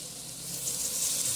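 Boiled banana flower dropping into a hot pan, a steady close hiss of sizzling oil that swells slightly over a brief moment.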